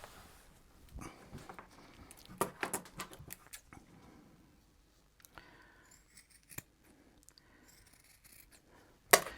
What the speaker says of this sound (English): when I take this pattern, cut out the leather